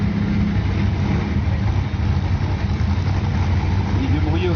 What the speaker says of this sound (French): Sur la voie de gauche donc une Plymouth donc Cuda blanche de 73 avec 5 litres de cylindrée.